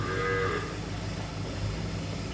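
A cow lows at a goshala cow shelter in Kokan, a single call early on over a steady background hum, fairly faint and not close.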